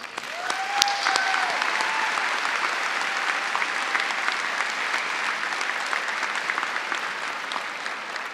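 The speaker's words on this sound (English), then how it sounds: "So if the audience would join me and graduates in giving them a round of applause." High school graduation crowd applauding faculty and staff, a broad sustained roar of clapping filling a large hall, with faint cheers near the start and the ovation holding steady throughout.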